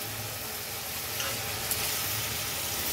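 Tomatoes dropped into a frying pan of prawns set off a steady, bright sizzle with soft bubbling underneath, held at a moderate level throughout with no voices.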